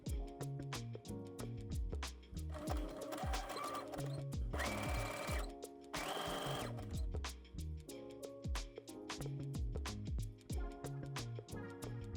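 Sewing machine zigzag stitching elastic onto a lingerie bralette, a close, steady mechanical whir with a rapid rhythmic needle beat throughout, briefly rising in pitch at higher speed, no voices.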